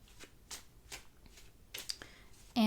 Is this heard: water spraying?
no